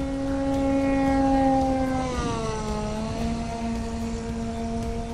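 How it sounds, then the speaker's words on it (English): Low propeller airplane passing close overhead, its loud droning engine tone holding steady then sliding lower as it goes by, with a strong pitch drop midway. "I've got a slow plane right now."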